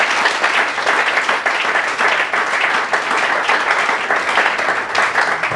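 A church congregation applauds loudly and steadily, dense clapping from many hands filling the room without a break, with no speech over it.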